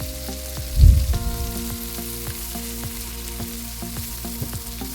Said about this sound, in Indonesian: Tumis lebih dulu bawang bombaynya hingga layu.